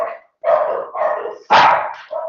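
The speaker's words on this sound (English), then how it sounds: "That's my dog." A pet dog barks several times in a home, loud and close, with short gaps between sharp barks and one especially strong bark near the end.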